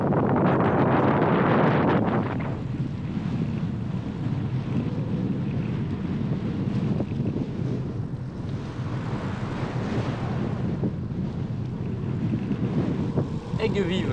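Strong headwind roars over the microphone while cycling through southern France near the Canal du Midi, a loud, steady buffeting rumble lasting the whole stretch, heaviest at the start.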